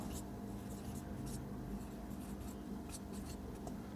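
A pen or chalk scratching across a board during a physics lesson, short bursts of strokes repeating at intervals beneath a faint voice.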